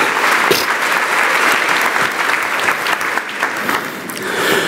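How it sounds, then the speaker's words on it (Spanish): A church congregation claps together at a Sunday service, with loud, dense and steady applause filling the room throughout, close and sustained without a break. "dale un aplauso bonito y precioso a Dios."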